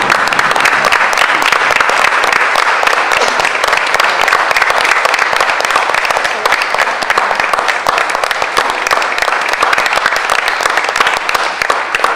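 Loud, sustained applause from the audience at a Hoboken Board of Education meeting congratulating a student award winner, dense continuous clapping close by that stays even for the whole stretch.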